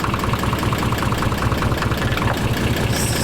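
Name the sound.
Nissan 300ZX twin turbo engine idling with valve ticking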